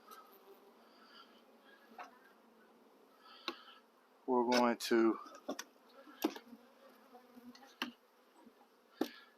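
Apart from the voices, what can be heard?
bees buzzing around a nuc hive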